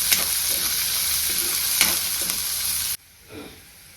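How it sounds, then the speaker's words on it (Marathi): Onion and green beans fry in hot oil in a Maharashtrian home kitchen, a loud steady sizzle with a few scraping stirs for about three seconds before the frying suddenly drops to near silence. "कांदा आपल्याला लाल होईपर्यंत तळून घ्यायचा तेलामध्ये"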